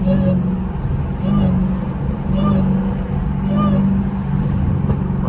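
Deep engine and exhaust note from a Dodge Hellcat, close and loud, with rhythmic pulsing swells roughly every second as the revs rise and fall.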